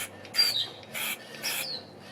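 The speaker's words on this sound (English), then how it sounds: "That bird's going nuts." A bird squawks loudly outdoors in three harsh, rasping bursts with short gaps between them, close and prominent over a quiet background.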